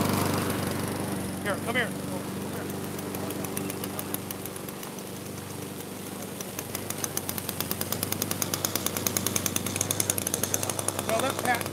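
A string trimmer runs outdoors in a lawn care setting, a steady buzzing motor drone that continues throughout with rhythmic pulsing toward the end, while a person speaks briefly over it.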